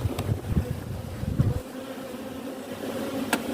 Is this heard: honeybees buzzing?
yes